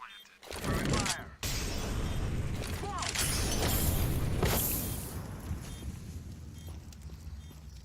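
A Molotov fire grenade thrown in Counter-Strike 2 (CS2), a sharp glass shatter and whoosh followed by a sustained crackling, roaring burn that slowly fades, with brief game voice lines in between.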